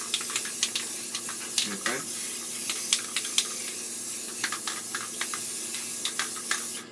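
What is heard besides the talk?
spray paint can spraying black paint onto paper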